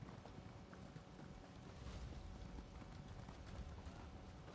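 Horse hooves clip-clop at a steady running rhythm in the Elder Scrolls Online video game, quiet and continuous under a low ambient background.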